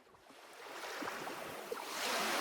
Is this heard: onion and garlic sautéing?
no